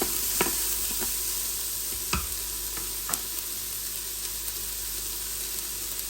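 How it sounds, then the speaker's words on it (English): Onions sizzle steadily in a hot pan, a constant crackling hiss broken by a few scraping knocks as they are stirred. "I'm starting to hear sizzling noises, so I'm just going to give my onions a quick stir"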